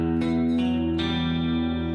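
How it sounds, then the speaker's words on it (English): An electric guitar plays a short figure of sustained clean notes through a Boss chorus pedal, a few picked attacks ringing out with a shimmering wavering tone, loud and close with no voice. "now add the chorus onto it"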